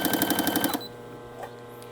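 An electronic sewing machine's DC motor runs in a rapid, even mechanical chatter for under a second, then stops, leaving a faint hum.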